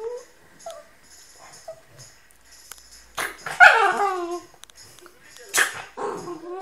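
A dog gives a few short whimpers and yips, then two louder barks a couple of seconds apart, close by and intermittent against a quiet background.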